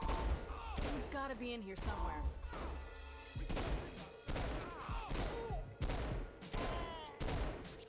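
Repeated gunfire bursts in the video game Saints Row 4, loud sharp volleys roughly every second with clattering impacts, with a voice talking briefly between shots.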